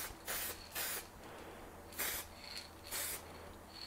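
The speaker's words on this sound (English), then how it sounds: "Spray, that's a really good spray." Several short bursts of a matte spray paint can hissing, each lasting about a third of a second, with brief pauses between them, close and fairly loud.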